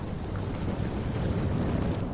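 Wind from the Voyager Golden Record's weather sound effects: a steady, low, rushing roar with no breaks, loud and broad throughout, with no voices.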